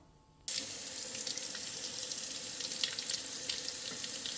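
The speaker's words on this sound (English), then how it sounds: "So now all I'm doing is just pouring some water on the side, just so the bottom of that pot will just come sliding out." Water poured from the side into a pot of cooked saffron rice (Persian kateh) to loosen the crust, a steady close hissing splash that starts abruptly after a brief quiet and runs continuously.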